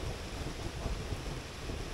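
Thunder from a thunderstorm directly overhead, heard as a continuous loud low rumble with wind-like noise over two seconds, no voices.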